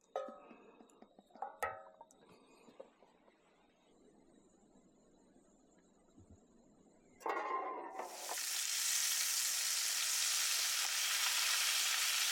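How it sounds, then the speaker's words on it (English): Quiet clattering and small handling noises, then a loud, steady hiss of oil deep frying a cinnamon roll at a desert campsite takes over and continues strongly to the end. "let's do some deep frying. I was going to try to fry a cinnamon roll."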